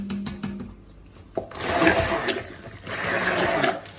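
Vegetable-oil soap batter in blue and white stirred in a container, giving a soft, continuous scraping and rubbing with a few sharper knocks at the start, close by and alone.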